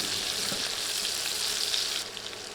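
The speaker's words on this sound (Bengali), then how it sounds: "এরপর দিচ্ছি পেঁয়াজ কুচি একটা পেঁয়াজ কুচি করে দিয়ে দিলাম নেড়ে নেড়ে ভেজে নিচ্ছি" Chopped onion frying with five-spice in a pan, a continuous close sizzle with stirring scrapes, dropping slightly quieter near the end.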